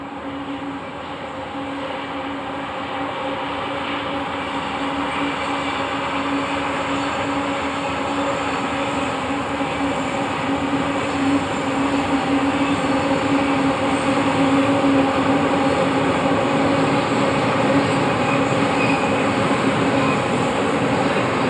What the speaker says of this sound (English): A freight train is a couple minutes away from coming through